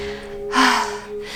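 A single deep, breathy exhale during a yoga pose, close and fairly loud, swelling for about a third of a second before fading, with a softer breath following.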